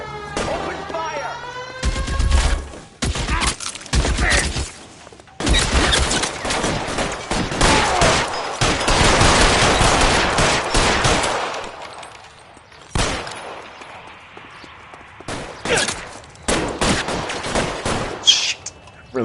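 Shootout gunfire from the video game L.A. Noire: repeated bursts of loud, close shots and rapid volleys in clustered runs, separated by short pauses, with game voices heard between them.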